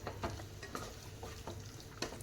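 Paneer tikka roll stuffing stirred and fried in a pan: a faint, continuous low sizzle with soft periodic scraping strokes from the spatula.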